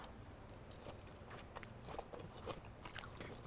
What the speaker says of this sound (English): Don't mean to chew and talk.